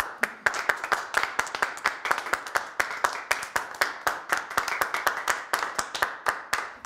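An audience claps in a steady stream of sharp, close hand claps that continue for several seconds, fairly loud and dense, with no speech over them.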